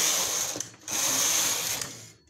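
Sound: punch card knitting machine in operation

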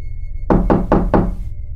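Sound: knocking on a bedroom door, sound effect in a scary animation

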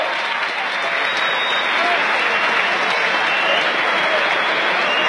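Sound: crowd applause for a boxer

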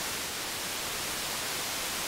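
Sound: synthesizer white noise

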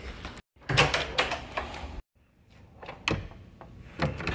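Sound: hotel room door being shut

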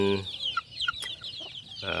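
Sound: young chickens clucking in a brooding cage

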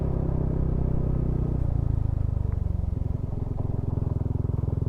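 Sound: motorcycle riding on a rough road

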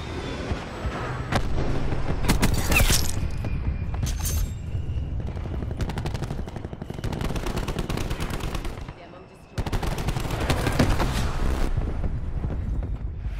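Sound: Thresher gunship attack gunfire in video game Black Ops 4

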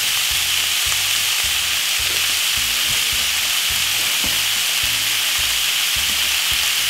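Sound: minced meat browning in a frying pan

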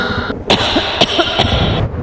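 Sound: people coughing

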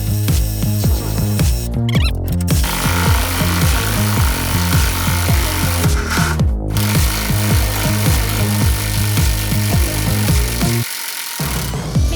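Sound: Ronix 280 Nm impact driver driving 160 mm lag screw

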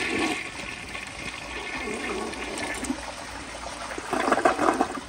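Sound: 1984 round Lamosa Atlas toilet flushing

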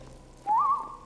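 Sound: whistling in the video game Skyrim Special Edition

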